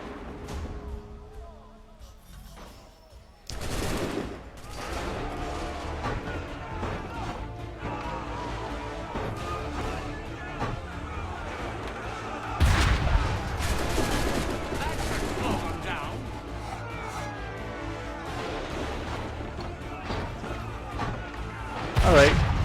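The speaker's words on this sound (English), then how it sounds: "I can get on board with the cannon minigame." Cannon blasts and gunfire from a video game minigame set against redcoats, with dense bursts of shots and heavy booms running almost continuously under music and game sound, including a loud blast about midway.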